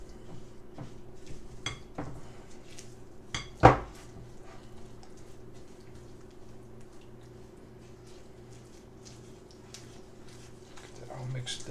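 Brown butter cookie dough is mixed in a bowl with a utensil, giving soft scraping and clinking sounds, one sharp knock, and a faint background hum, close and quiet.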